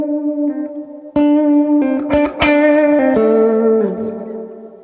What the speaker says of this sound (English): For even softer tones, you can use your fingers.